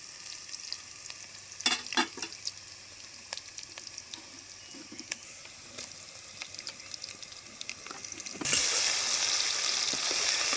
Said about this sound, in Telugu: ఉల్లిగడ్డ వేగింది ఇప్పుడు అల్లం ఎత్తా